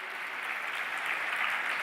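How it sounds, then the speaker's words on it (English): A university audience at Bocconi University in Milan applauds during a global policy forum, a brief, even and fairly soft stretch of massed clapping heard from a distance. "This is the applause from Milan, Bocconi University."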